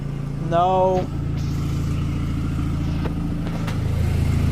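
Saturn Sky engine idling smoothly just after a timing chain replacement, a steady low hum under a brief burst of speech near the start.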